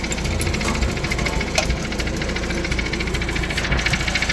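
An old Farmall Super C tractor engine runs steadily and close by, a continuous rough, knocking mechanical drone that holds at an even level throughout.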